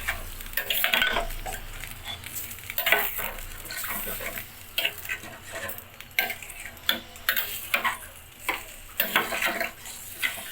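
Water poured into a pan of rui fish curry with cauliflower and potato, sending up bursts of hissing sizzle mixed with stirring scrapes and light pan knocks, close and uneven.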